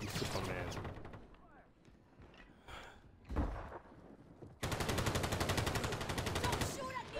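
Automatic weapons fire in the online shooter Warzone comes in rapid bursts, with a long sustained volley near the end, and brief spoken words fall between the shots.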